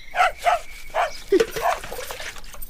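A dog barks several times in short, sharp bursts at close range, with a brief low yelp partway through and faint background noise.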